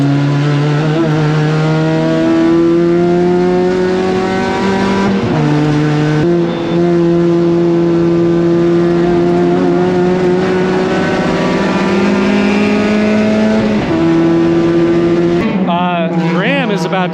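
A Mazda NC Miata endurance race car lapping Road Atlanta, its engine droning loud and steady through gear changes, with a sharp rev shift near the end.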